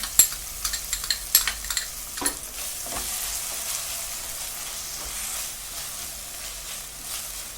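Red and green chili sauces are stirred into vegetables for veg chowmein in a hot pan, a few sharp spoon clacks against the metal at first, then a steady, fairly quiet sizzle.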